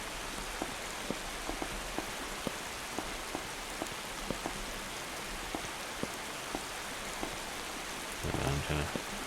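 Steady rain falls at night, a soft even hiss with scattered drops ticking close by, quiet throughout and ending in a brief louder rustle.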